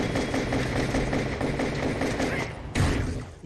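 A loud, dense rumbling video game explosion in Total Overdose with crackling debris, sustained for a few seconds before a brief dip and a sharp second burst near the end.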